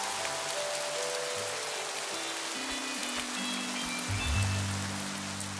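Cartoon rain sound effect, a steady dense patter of raindrops on surfaces that continues evenly throughout, with a faint low rumble underneath.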